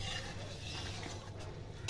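A spoon stirring tomato chili sauce in a pan, a soft continuous scraping with a faint simmering hiss underneath, quiet and close, no talking.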